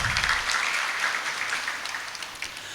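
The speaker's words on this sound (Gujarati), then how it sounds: "ડૉક્ટર સાહેબને તાળીઓથી વધાવો એકવાર" An assembled crowd at a village Amrut Mahotsav celebration in Gadhshisha gives a doctor a round of welcoming applause. The clapping is moderately loud and dense, then gradually thins and softens toward the end.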